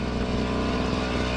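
KOSHIN EP-10P engine-driven power sprayer running at a steady idle, a close, continuous low putter of a small engine with no voices over it.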